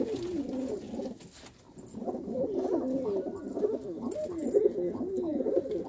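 Pigeons coo in a loft, several birds overlapping in continuous low, warbling calls close by, with faint high chirps and a brief lull partway through.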